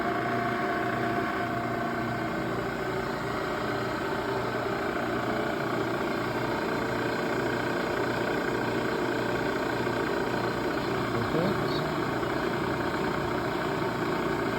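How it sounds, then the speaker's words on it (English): Southwestern Industries Trak K3S CNC mill with its spindle running, a steady mechanical hum and drone at constant moderate level with faint tonal whine, no voices. "And here we would start the spindle."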